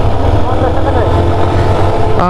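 A motorcycle rides onto the Jamuna bridge in Bangladesh, its engine humming loud and steady with strong wind rumble, and a voice talks over it.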